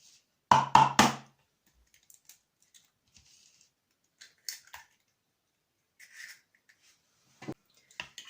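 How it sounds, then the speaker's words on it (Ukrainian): A few sharp cracking taps in quick succession, then scattered soft clicks and small kitchen noises in a quiet room. "Розбиваю одне яйце."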